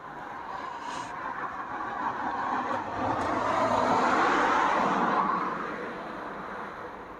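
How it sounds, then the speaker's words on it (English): Steady car traffic streams past on a busy road through Maidstone, a continuous broadband roar that swells in the middle as vehicles pass nearby, with no voices. "This is obviously a busy road through Maidstone, so we've got you're probably getting a bit of car noise"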